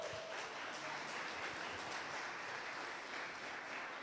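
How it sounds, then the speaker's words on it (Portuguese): A church congregation applauds steadily, a dense wash of clapping that holds at an even, moderate level throughout with no voices standing out. "Vamos aplaudir ao Senhor bem alto?"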